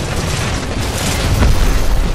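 A test area blows up in the sci-fi shooter game Titanfall 2, a dense, loud rumbling roar of explosion noise that swells toward the end without pause.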